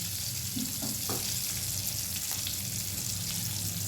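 Onions sizzling and frying in a little oil in a pan for a potato and ridge gourd dish, a steady dense crackle throughout with a few stirring clinks, close up and without talk.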